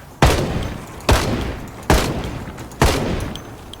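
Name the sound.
rifle gunfire in the video game Project Zomboid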